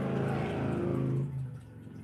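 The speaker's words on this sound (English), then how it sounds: "apparently the motorcycles wait for me to start until they drive by" A motor vehicle engine, likely motorcycles driving by, roars past nearby with a revving, rising tone that then fades away over a couple of seconds.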